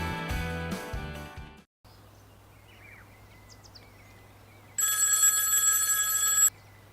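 A telephone bell rings in a radio advert, one steady burst of about two seconds standing out over quiet outdoor riverside ambience with faint bird calls, after a short musical passage.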